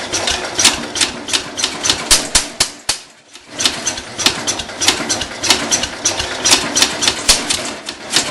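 A Cub Cadet 147 garden tractor engine cold starts, sputtering in loud, close, rapid uneven firing pulses with a brief stumble partway through before it catches and runs on.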